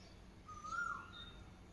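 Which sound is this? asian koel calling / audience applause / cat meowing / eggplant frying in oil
asian koel calling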